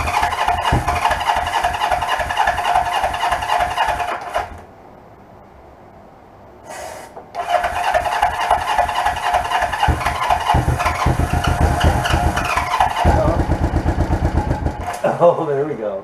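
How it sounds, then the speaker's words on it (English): A 1980 Yamaha XS400 motorcycle engine in a cafe build is cranked and fires up into a loud, steady idle close by, cuts out briefly, then restarts and runs with rapid, even firing pulses. "I've never heard this motor run."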